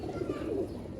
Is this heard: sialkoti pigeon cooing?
yes